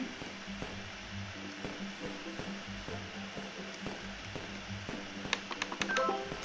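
Mobile phone in a Roblox video game dialing, a quick run of short bright keypad tones near the end over soft game background hum.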